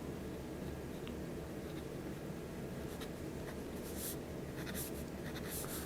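A Kaweco Sport Skyline fountain pen nib scratches across paper, a soft continuous papery rasp with a few brighter strokes toward the end, heard very close with no talking.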